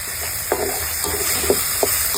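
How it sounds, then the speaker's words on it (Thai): Curry paste stir-fried in a pan gives a steady, close sizzling hiss, punctuated by four or five soft scrapes and taps of stirring, with no talking. "เราผัดพริกแกงไปก่อนนะครับ"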